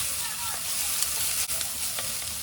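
Ginger garlic paste frying in a hot pan for chicken curry, a dense, close, continuous hiss with a faint stir partway through.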